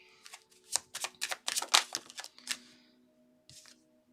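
Tarot cards are shuffled and drawn by hand: a quick series of crisp riffling slaps and flicks close up, followed by quiet and one last soft card snap.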